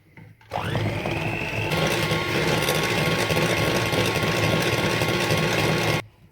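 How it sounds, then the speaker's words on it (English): An electric mixer whips cooled ganache until fluffy, starting up abruptly and holding a loud, steady whine for about five seconds before cutting off. "I'm going to take my cooled ganache and mix it and make it nice and fluffy."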